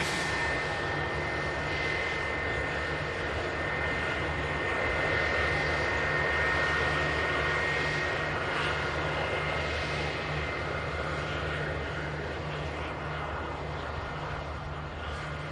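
Steady roar of a Turkish Airlines airliner's IAE jet engines at Manchester Airport, loud and continuous with a high whine on top, sustained throughout with no talking.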